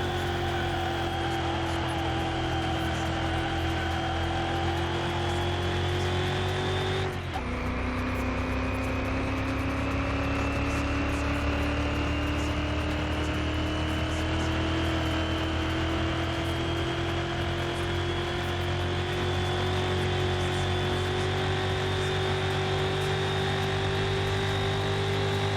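A NASCAR-engined car in Car Mechanic Simulator screams at high speed, its engine tone rising steadily in pitch, dropping sharply at a gear shift, then climbing again in a long, loud, continuous acceleration.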